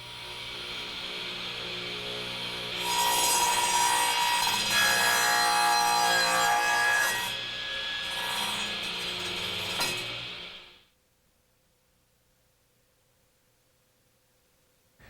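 A Craftsman radial saw crosscuts a wooden workpiece with a loud, steady, close roar that swells midway. After about ten seconds it stops abruptly, leaving near silence.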